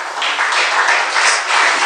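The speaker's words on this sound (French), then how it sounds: "alors on acclame la parole de Dieu" A church congregation applauding, a dense steady wash of clapping that holds at a fairly loud level for the whole short stretch.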